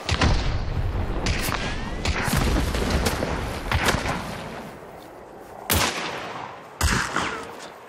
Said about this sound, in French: Il m'a lancé TNT, ils sont deux.